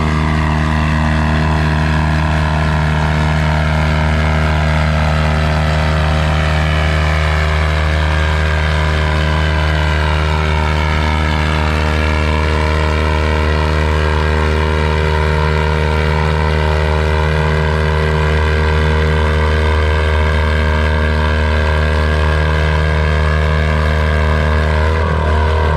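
A vintage tractor at a tractor pull during vintage farming days in Lynden, Washington, drags a heavy sled. Its engine gives a loud, close, unbroken droning roar that holds steady for the whole stretch.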